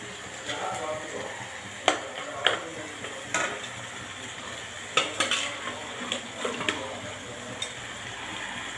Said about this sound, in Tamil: மசாலா போட்டு ஊற வச்சதை எடுத்து கொட்டணும்